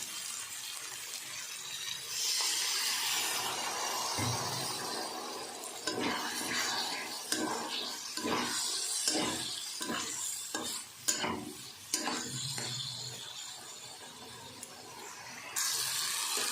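Goat liver sizzles and spits in a pan as water is poured in, followed by stirring scrapes and bursts of crackling, close and fairly loud with no talk.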